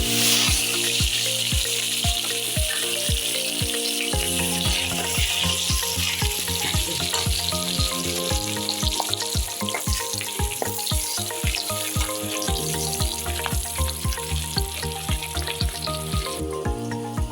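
Garlic frying in a pan while tuna fish pickle is being made makes a loud, close, crackling sizzle, with repeated rhythmic scraping knocks of stirring over a low musical hum.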